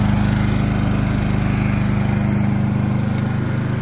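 A Champion dual-fuel propane/petrol 3500 W generator runs steadily nearby, a continuous low engine drone with a dense, even hum that holds at a constant level throughout.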